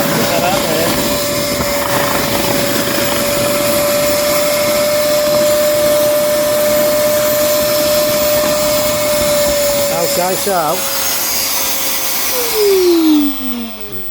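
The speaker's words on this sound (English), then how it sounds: "I'm going to hoover all that out, hoover as much as I can out the brushes" A vacuum cleaner hoovering out koi pond filter matting and brushes runs steadily and loudly with a sustained whine, a brief voice over it, and the motor pitch drops as it winds down at the end.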